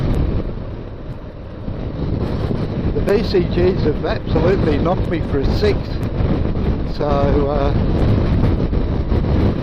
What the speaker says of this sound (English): it's quite windy out today too